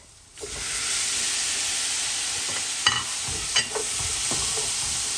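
Tomatoes drop into hot frying ginger, garlic and chili paste for a Fijian lamb shank palau, giving a steady loud sizzle with steam hiss throughout and a few sharp stirring scrapes and knocks of a spoon in the pot.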